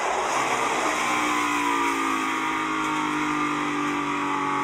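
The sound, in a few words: NASCAR race cars racing to the checkered flag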